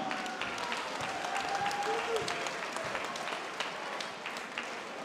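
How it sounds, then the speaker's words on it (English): An arena crowd applauds both fighters after a welterweight cage-fight main event, a steady wash of clapping lasting the whole stretch, moderately distant, with a ring announcer's amplified voice faintly over it. "Ladies and gentlemen, round of applause for both fighters this evening."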